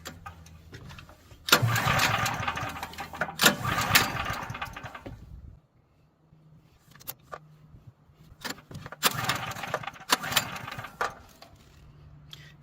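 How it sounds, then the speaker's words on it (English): A Firman generator engine is pull-started by cord, with two loud bursts of rapid pulls and sputtering, split by a quieter pause with faint clicks. "give that cord a couple pulls, pull our choke about halfway over, give it another couple pulls, and it should start right up"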